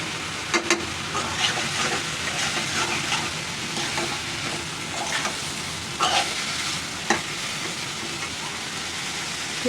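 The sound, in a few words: teasel gourd and potato frying in pan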